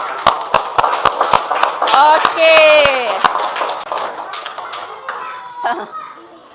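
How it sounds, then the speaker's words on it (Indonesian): Children in a classroom clap hands together in a fast, sharp burst of claps, joined by excited young voices shouting, then a short spoken word as the clapping fades. "Tepuk tangan dulu sekali lagi. Lebih keras."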